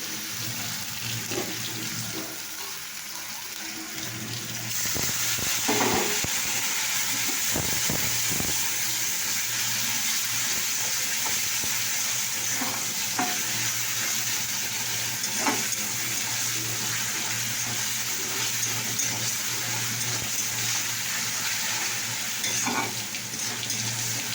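Onion and spices sauté in a pan with a steady, close sizzle that runs throughout, broken by occasional scraping stirs and a soft clatter early on, with no talk.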